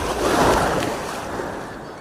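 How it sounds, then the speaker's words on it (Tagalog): Waves roll over deep water in a steady, washing surge that swells and then eases, with wind noise on the mic and no voices. "At tas may alon pa oh."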